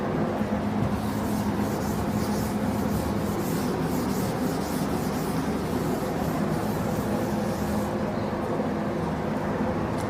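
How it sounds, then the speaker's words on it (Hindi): Continuous scrubbing and rubbing as writing is wiped off a board in a classroom setting, a steady close swishing texture lasting the whole stretch without speech. "ये वाला रब कर देता हूँ।"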